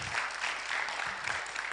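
A brief burst of audience applause from a small crowd at a Software Freedom Day talk, steady clapping with no speech over it.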